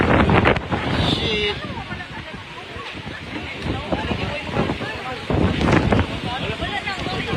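Strong gusting typhoon wind from Typhoon Tino batters the microphone in heavy, uneven blasts, with voices and a muttered exclamation partly buried underneath.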